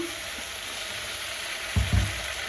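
Spluttering oil frying in a pan for vangi bath, a steady faint hiss with a couple of soft low thumps near the end, no voices.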